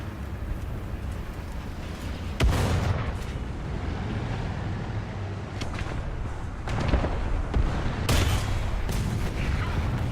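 Tank cannon fire in War Thunder, in a Chinese tank lineup at 5.7: sharp booming shots ring out over a steady engine rumble and battle noise, a few heavy blasts spaced seconds apart.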